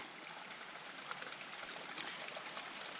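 Creek water flows steadily near a dam on a wooded trail, a continuous mid-level rushing and trickling wash with no voices.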